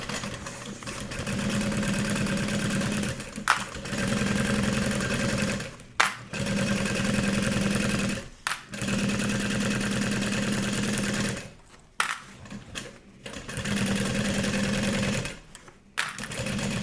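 A sewing machine runs a 3/8 inch seam on lightweight duffel bag fabric, its steady close hum broken by several short pauses and restarts.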